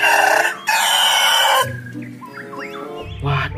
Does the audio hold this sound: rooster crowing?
yes